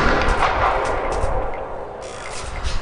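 Rapid bursts of gunfire from the prison-management video game Prison Architect crackle continuously for about three seconds, dense and fairly loud, with no talking over them.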